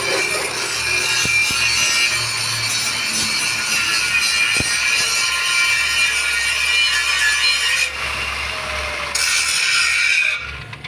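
An angle grinder cuts and grinds the metal frame of a solar panel trolley, a loud steady abrasive whine running nearly the whole time and dropping away near the end.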